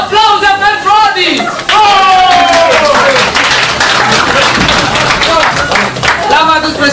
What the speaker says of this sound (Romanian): Aplauze pentru Adi.